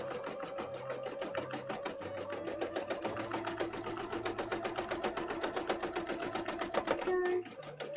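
A sewing machine stitches thin fabric for a cosplay costume, its needle running in a steady fast rhythm up close, with a brief change in the motor sound near the end.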